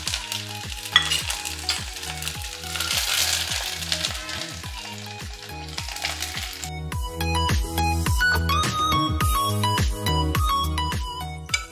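Curry leaves crackle and sizzle as they drop into hot oil with green chillies for upma tempering, a bright spitting hiss that rises and falls over a steady, rhythmic musical beat.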